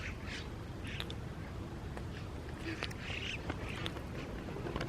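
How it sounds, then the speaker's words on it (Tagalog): Flock of migratory birds passing over a fruit farm in Pakistan, a steady wash of overlapping calls and quacking-like cries rising and falling at moderate distance over constant outdoor background noise. "Migratory birds."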